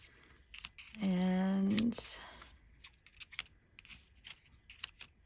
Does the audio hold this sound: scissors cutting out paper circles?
yes